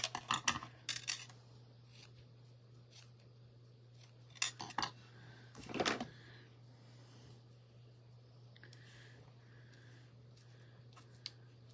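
Scissors snip paper craft pieces in a few quick bursts of close, crisp cuts separated by quiet pauses over a low steady hum.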